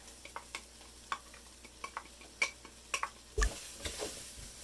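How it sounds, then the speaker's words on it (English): Minced garlic sautéing with onions, carrots and celery in a pot for lentil soup, giving a soft sizzle broken by irregular light clicks and taps of a spoon, fairly quiet and close. "So now the garlic is sauteing with the onions, the carrots, and the celery."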